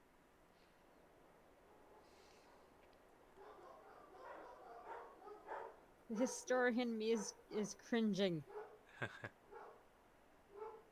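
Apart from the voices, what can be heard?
dogs barking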